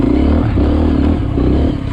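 A Beta dirt-bike engine revs loud and close on a trail ride, holding a steady, throbbing drone with rising and falling pitch before easing off near the end.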